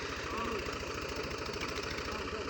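A tractor engine, a 480 model, runs at a steady idle with a low, rhythmic knocking throb, close and continuous.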